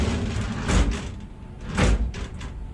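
Sliding doors of a Fryer CM-15 milling machine with Siemens control are opened, two distinct rolling thumps about a second apart, close and moderately loud, amid faint workshop background.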